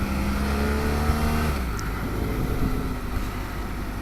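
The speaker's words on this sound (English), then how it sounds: "Does have a throatier exhaust, which I like" A BMW F800GS motorcycle engine drones steadily with a deep, throaty exhaust note, its pitch dropping as the rider eases off, heard up close.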